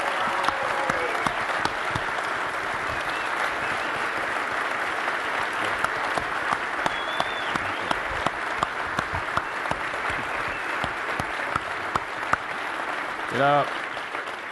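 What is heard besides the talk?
conference audience applause for the Fish and Wildlife Service Director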